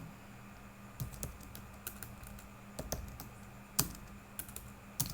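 Quiet typing on a computer keyboard while entering a title, scattered key clicks in small irregular bursts with pauses between them, close and soft against a low background hum.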